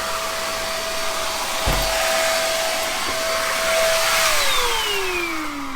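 A vacuum cleaner runs steadily nearby with a constant whine, a brief thump partway through, and its pitch dropping as it winds down.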